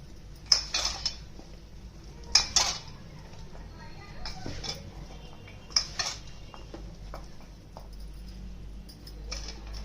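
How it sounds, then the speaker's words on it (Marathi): Raw mango pieces tossed with masala and salt in a bowl, giving several sharp clinks and scrapes of utensil against dish in irregular bursts over a low background hum. "आता हे सगळं मिक्स करून घ्यायचं असं, खालीवर करून खालीवर करून"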